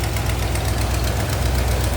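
Rebuilt 283 V8 in a 1961 Chevrolet Bel Air two-door sedan with an Edelbrock four-barrel idles loudly and steadily, a rapid even ticking and puffing from an exhaust leak running throughout at close range.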